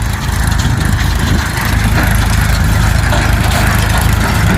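A Powertrac Euro 41+ tractor powering a stone-picking machine in a farm field, a loud, steady engine drone with mechanical clatter running continuously, no voices.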